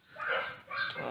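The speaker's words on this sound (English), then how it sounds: "Sorry about the dogs." Dogs bark nearby during a cheap knife test, giving two short, quick barks that are faint and sit in the background.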